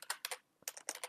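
Bursts of keystrokes on a computer keyboard while entering a registry value name in Windows, quick clustered taps with a short pause midway, close and fairly quiet, no talking.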